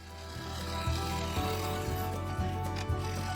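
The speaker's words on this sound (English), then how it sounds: "The carbide cutter is better at cutting this away" A carbide cutter hollowing out a wood and three-colour epoxy resin lidded bowl on a lathe, giving a steady, loud whirring hum with a scraping texture and periodic dull knocks.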